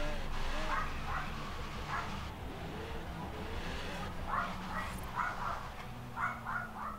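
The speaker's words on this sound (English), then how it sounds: "Oh, the dog's barking." A dog barks repeatedly at some distance, short yapping bursts in clusters, over a steady hum of game or room background noise.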